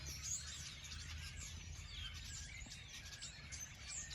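Several small winter birds chirp and tweet in quick, overlapping calls over a low steady background hum, fairly distant and soft.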